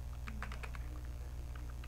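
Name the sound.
computer keyboard shortcut keys being pressed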